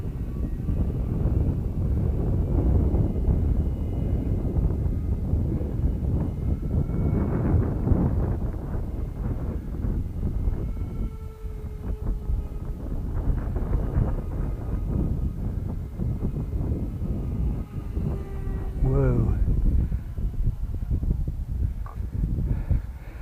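Steady wind buffeting the microphone in a continuous low rumble, with a faint RC twin-motor plane engine whine rising and falling in the background.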